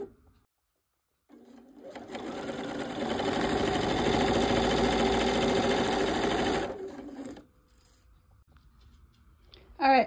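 A sewing machine stitches a quarter-inch seam on a quilt block, its steady close-up whir running for about five seconds after a brief start and then stopping, with quiet handling noise around it.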